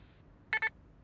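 Two quick electronic beeps from an answering machine in a cartoon sound in close succession, clear and isolated over a faint quiet background.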